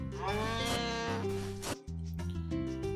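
Farm animals in the video game Harvest Moon: A Wonderful Life give bleating, sheep-like calls in quick succession, loud and close over steady game background sounds, without speech.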